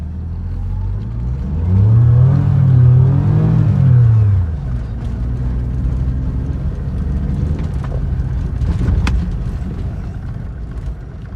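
A BMW E46 on affordable coilovers drives over a rough, bumpy road, its engine rising in a brief revving sweep, then settling into a steady low rumble with road noise and occasional knocks from the suspension.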